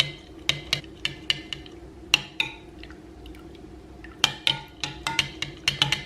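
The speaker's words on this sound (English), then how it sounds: "So make sure you mix fairly well." A utensil mixing emollient oil ointment in a bowl for homemade eczema cream, a series of close, clicking scrapes and taps against the bowl in an uneven rhythm, quiet between strokes.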